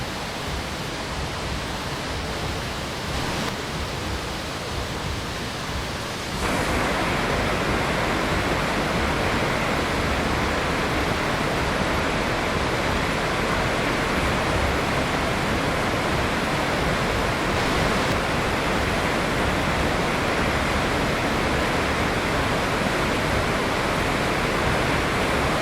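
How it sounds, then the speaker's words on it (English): Giant waterfall pouring down with mud and earth swirling, a dense continuous roar that swells louder after a few seconds and holds steady, with no voices. "The giant waterfall cascades down, mud and earth swirl."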